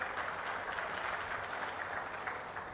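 Applause from an audience at a welfare hostel gathering, a fairly faint, steady spread of many hands clapping at some distance, continuous for a few seconds.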